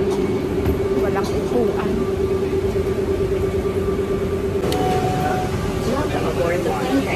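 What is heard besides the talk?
airport tram train departing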